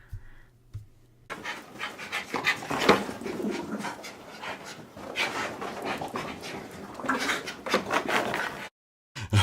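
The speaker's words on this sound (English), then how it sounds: "It's of my two dogs chasing each other" Two dogs chase each other indoors, panting heavily with scuffling bursts and a faint whimper, close by, broken by brief moments of silence.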